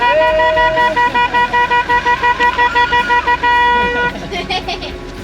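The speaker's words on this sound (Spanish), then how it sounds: "Vamos a tocar bocina." Car horns honk repeatedly in a rapid pulsing rhythm over road noise on a mountain road in Laos, with people talking at the same time.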